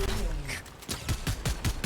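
Rapid bursts of gunfire from an online shooter video game ring out in a steady rhythm of loud, close shots, with a player's voice talking over the action.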